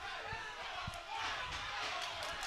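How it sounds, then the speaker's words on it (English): A boxing crowd at a title fight roars and shouts encouragement as the fighters trade punches, making a dense, steady wall of noise with scattered louder yells and thuds. "Crowd's urging them on."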